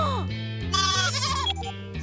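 Several cartoon goats bleat in quick succession, wavering, nasal cries overlapping one another up close with no talking.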